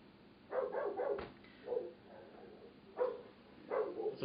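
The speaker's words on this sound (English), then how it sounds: "what's up with the dogs?" Indoors, dogs bark in several short bursts, somewhat distant and muffled, with gaps of quiet between them.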